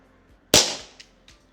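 A Dan Wesson air gun revolver fires a single double-action shot, a sharp, close crack that rings off and fades, followed by a couple of faint clicks.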